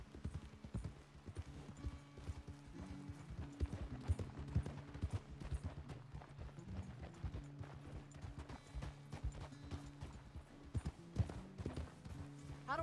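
Horse hooves in Red Dead Redemption 2 clip-clop in a steady, quick rhythm throughout, fairly faint, over a low tonal hum.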